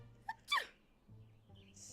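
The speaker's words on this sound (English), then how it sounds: "Sneeze." A cartoonish sneeze from a character in the video game Witchy Life Story, one short sharp burst preceded by a small intake sound, heard alone against a quiet game background hum.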